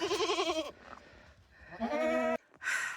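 Goats on a farm in cold weather bleat loudly and close by, a wavering cry followed by another after a short pause, with a brief third call cut off at the end.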